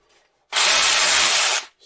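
A Milwaukee PH26 TX hammer drill runs in rotary drilling mode, a loud, steady, harsh whir that starts abruptly and stops after about a second.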